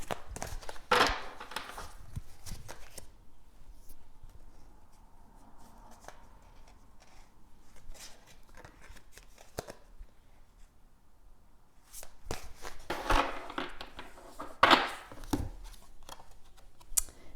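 Tarot cards being shuffled by hand in a quiet room, bursts of crisp riffling and slapping at the start and again near the end, with softer handling noises between.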